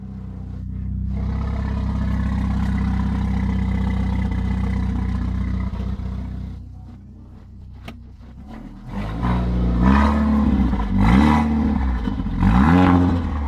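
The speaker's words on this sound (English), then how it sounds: "Oh, the car sounds great." A damaged scrapyard car with an aftermarket downpipe exhaust idles with a steady rumble, then revs in several rising and falling bursts, loud and close.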